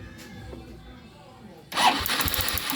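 A Honda Wave CX 110 motorcycle with a misfiring, spark-plug fault catches partway through and starts, a loud engine burst following quieter ambient noise, then running near and rough with uneven pulses.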